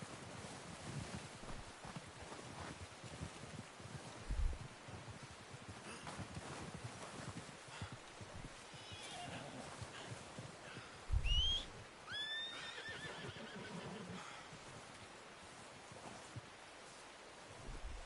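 A horse in Red Dead Redemption 2 lets out a sharp, fairly close whinny over a soft, wind-like outdoor background with faint movement around it.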